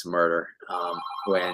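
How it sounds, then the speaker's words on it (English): Telephone ringing under a man's speech: repeated bursts of a buzzy, warbling ring with short gaps between them, loud and close, partly masked by the talking voice. "Sorry about the phone."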